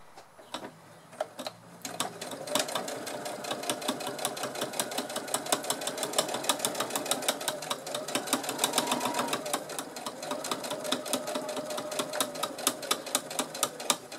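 A sewing machine runs a steady straight stitch along the edge of backpack fabric, with a rapid even mechanical rattle that starts after a brief quiet moment and continues close up without pause.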